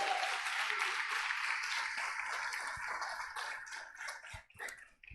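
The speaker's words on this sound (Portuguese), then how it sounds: "Pode aplaudir a Ele" A church congregation claps steadily in warm applause that gradually thins out, ending in a few scattered claps and small knocks.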